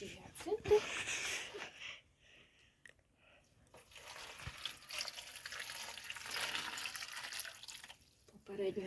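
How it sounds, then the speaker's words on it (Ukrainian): Water poured onto hyacinth bulbs in dishes splashes and trickles in uneven bursts, close by, with a voice speaking over the pouring. "Тепер будемо заливати наші гіацинти цією водою."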